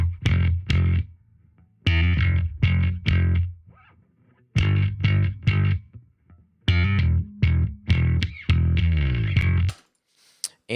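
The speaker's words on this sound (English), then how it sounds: "it is this slap bass that I have here" Slap bass track run through a compressor plugin, with punchy percussive plucked notes in clipped phrases separated by short gaps, loud and upfront with no voices.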